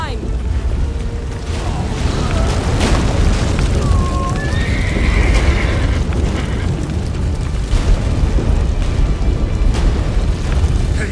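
A horse whinnies amid ongoing rumbling and booms in The Witcher 3, with a clear neigh rising over a loud, dense background of crashing explosions.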